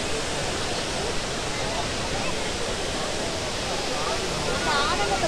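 Abbi Falls waterfall in the Kodagu hills, a steady, broad roar of rushing water close by, continuous and loud throughout with no pauses.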